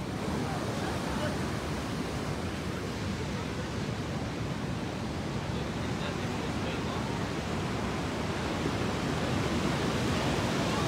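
Ocean surf at a beach rolls in as a constant broad wash of waves mixed with wind rumble, steady and moderately loud throughout.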